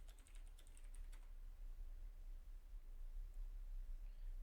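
A computer keyboard is typed on to enter a short chat message: a quick burst of close key clicks at the start, then only a steady faint hiss.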